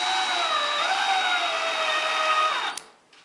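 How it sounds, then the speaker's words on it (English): A drill drives a short screw into thin material while building workshop cabinets, a steady close whine that dips in pitch partway through, then winds down abruptly with a faint click as the trigger is released. "these are short screws in thin material. Take your time when driving it in"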